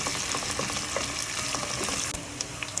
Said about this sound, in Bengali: আমি এইভাবে পেঁয়াজটা লাল লাল করে ভেজে নিছি